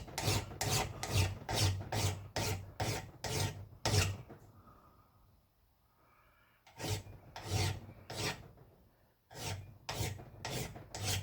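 Rhythmic rasping strokes of a file along the edge of a block splitter axe head, about a dozen close, loud passes in two bursts separated by a short quiet pause.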